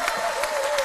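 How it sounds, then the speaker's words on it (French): Studio audience at a TV talk show breaking into brief applause, a dense patter of clapping that holds steady for under a second. "On applaudit très fort"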